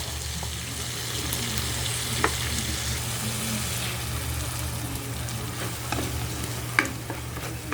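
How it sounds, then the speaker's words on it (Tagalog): Ampalaya sautéing with fish sauce in a hot pan, a steady close sizzle with occasional sharp pops and light clinks from stirring, no talking. "Ito naman ang ating ginigisa. Lagyan natin ng patis."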